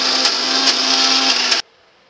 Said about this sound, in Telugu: 2 స్పూన్ మూత పెట్టుకొని ఇప్పుడు మిక్సీ పట్టుకుందాం